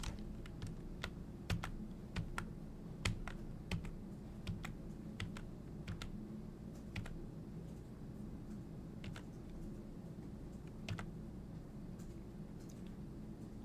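Computer keyboard keys clicking in sparse, irregular taps during a Unity game input demo, fairly faint over a steady low room hum with no talking.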